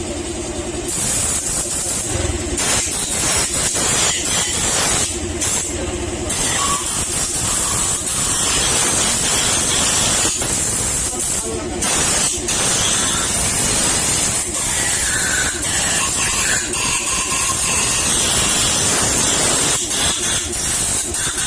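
Continuous loud hissing spray of water jetting onto a Honda Click125 scooter engine with milky coolant, with brief breaks and clattering noise throughout.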